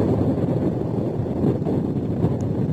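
Strong wind roars steadily across the microphone outdoors at Muttom near the water, a dense, unbroken rumble with no talking.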